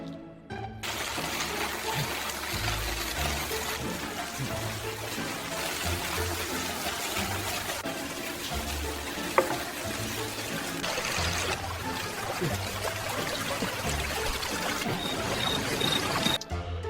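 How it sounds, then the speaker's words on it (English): Heavy rain pouring down steadily outside a house with a basement sump pump, a dense continuous wash of water noise that stays loud and even for the whole stretch, with a brief sharp click near the middle. "That rain sure is coming down."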